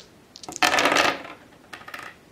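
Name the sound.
dice rolling in board game Target Earth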